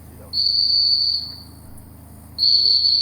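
A shrill, steady whistle at a 2020 SRS Crown Championship field event in Huntsville, Alabama, sounds in two sustained blasts, the first about a second long and the second starting after a short pause, over a low background hum.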